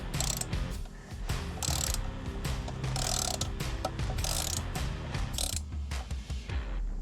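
A ratchet tightens the bracket side bolts of a Molecule Motorsports skid plate, giving repeated clicking pawl strokes throughout, fairly close and steady, with no talking.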